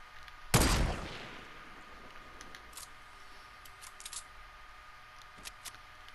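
Gunfire in Fortnite Battle Royale squads: one loud, sharp shot burst at the start, followed by faint scattered distant shots and small game clicks against a low background.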